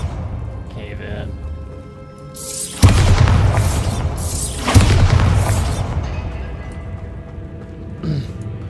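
A cave-in in the video game Hogwarts Legacy, with two heavy booming crashes followed by a long rumbling, crumbling tail, loud and close, under game music and a voice.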